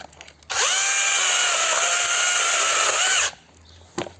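A DEVETECH CHS-12 cordless chainsaw whines up to speed and bites into firewood for about three seconds, a loud, steady high-pitched buzz that starts and stops abruptly, then quiet with a faint knock afterward.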